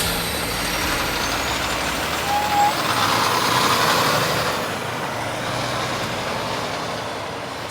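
Large truck maneuvering to park in a yard, a steady loud engine rumble that swells slightly midway and holds, with a faint air-brake hiss, near and alone without talk.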